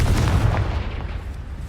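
Confringo fire spell blast from the game Hogwarts Legacy: a single deep, booming burst with a heavy low rumble that decays over a second and a half.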